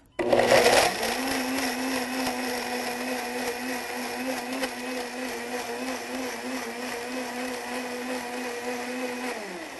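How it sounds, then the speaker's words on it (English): A blender whirs steadily while blending silken tofu, starting with a sharp loud burst and then settling into an even motor drone that holds, with a slight shift near the end. "we're using the silken because today. we're blending."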